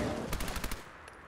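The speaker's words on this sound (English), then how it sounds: "Machine gun" A machine gun fires in the video game Fallout 4 as a quick burst of about six sharp, rapid shots, followed by a faint trailing echo.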